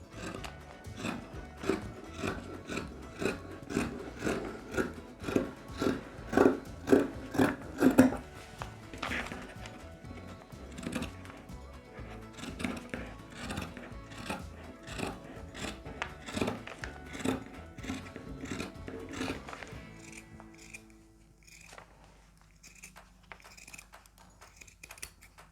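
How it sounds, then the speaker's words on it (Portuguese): Fabric scissors cut through cloth with a steady rhythm of close crisp snips, repeated many times and briefly growing louder partway through, before the snipping stops near the end. "vamos utilizar a nossa tesoura de tecido"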